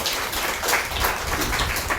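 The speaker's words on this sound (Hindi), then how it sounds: "एक बार सर के लिए जोरदार ताली बजाओ" A crowd at a team training session claps loudly for the trainer, a dense, steady wash of applause that holds evenly for two seconds.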